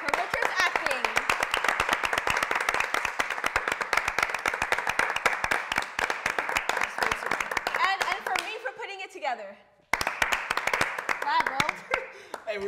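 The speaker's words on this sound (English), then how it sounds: "Round of applause for Richard" Clapping and applause at a family reunion after six years in prison, dense and steady for about eight seconds, briefly cutting out, then resuming, with laughter and voices mixed in.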